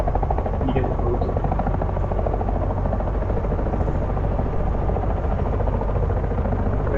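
A Eurocopter EC130B4 helicopter's rotor spins up with a steady, loud turbine whine and dense rhythmic blade thrum, continuous and close throughout.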